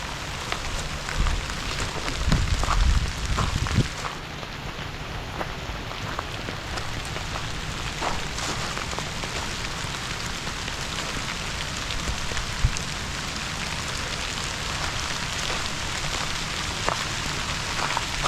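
Light rain patters steadily on surfaces at a culvert pipe installation site, a soft continuous hiss with a few louder thumps near the start, no voices.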